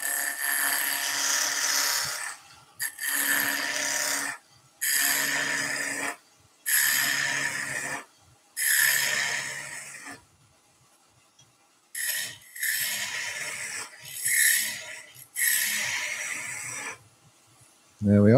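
A lathe tool shaves wood down to a cylinder for a Christmas carousel in repeated bursts of rough scraping and rasping, each a second or two long and separated by short silences, loud and close.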